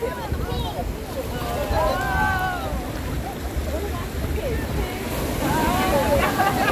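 Ocean surf rolling in on a beach at Coconut Grove in Elmina, Ghana, as the tide rises: a continuous loud wash of breaking waves with wind buffeting the microphone and scattered shouts and voices of swimmers nearby.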